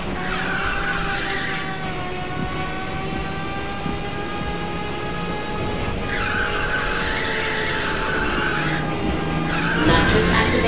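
A car drifts in the racing game Ridge Racer 6, tires skidding in a long sustained squeal over a droning engine, with the screech swelling and shifting pitch through the slide.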